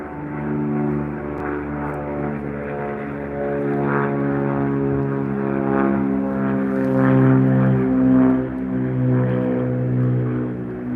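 A small Cessna propeller airplane departing from Albany International Airport, its engine droning steadily at mid-distance and swelling slightly louder as it climbs away.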